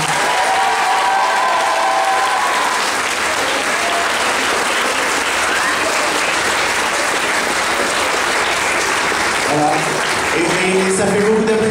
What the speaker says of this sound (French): Et ça fait beaucoup d'applaudissements